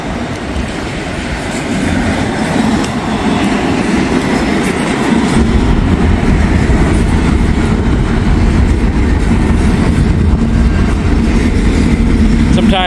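A CSX intermodal freight train rolls past in open farm country, a loud, steady rumble and rattle of wheels and cars that grows heavier partway through and stays continuous.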